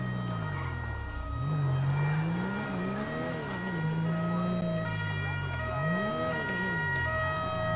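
A wailing ambulance siren in GTA V rises and falls in long sweeping cycles, loud and continuous, with a steady engine hum and a faint high tone beneath it.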